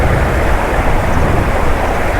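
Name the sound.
strong wind by the Ganges riverside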